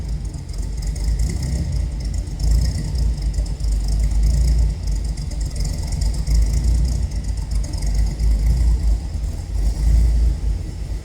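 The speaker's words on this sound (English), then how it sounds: "Got a little rumble coming out of this baby." A deep, steady V8 engine rumble from a 1969 Avanti II coupe with a Corvette engine drones continuously at close range, heavy and low, with no talking over it.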